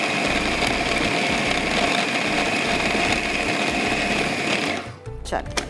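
A mixer grinder whirs steadily while blending a kebab mixture for soft, juicy galawat kebabs, running loud and continuous for about five seconds before cutting off as the motor spins down.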